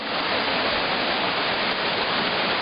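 Zhenets waterfall roars as a steady, even rush of falling water, loud and close with no pauses or voices.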